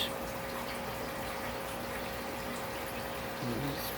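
Water bubbles steadily in a home fishroom aquarium, a soft continuous gurgling wash with a faint electrical hum beneath and a brief louder burble near the end.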